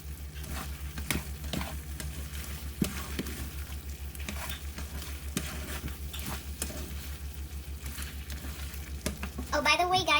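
Shrimp with tomato and oyster sauce being stirred in a pan, a steady sizzle with scraping spoon strokes and occasional clinks, a low hum underneath and brief faint talk.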